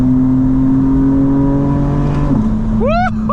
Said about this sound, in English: Have some ASMR of the car, sounding brilliant